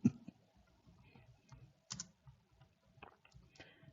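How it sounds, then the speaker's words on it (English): Typing on a computer keyboard: scattered, irregular key clicks and taps, close and fairly quiet, with a few louder strokes and short pauses between bursts. "I'm not able even to type correctly."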